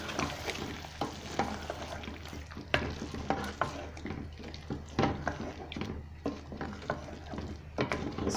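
Chicken handi with cream is stirred in a pot, irregular scraping and clinking of a spoon against metal over a soft bubbling simmer, close and moderately loud.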